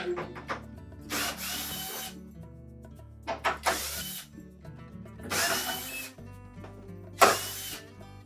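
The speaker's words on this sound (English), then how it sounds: "Then there's a series of 1/4" hex head screws through the face of it. So we'll remove all of those." A power driver spins 1/4-inch hex head screws out of the front panel of a Whirlpool dryer, four separate whirring bursts of a second or so, each followed by quieter handling clicks, close and alone.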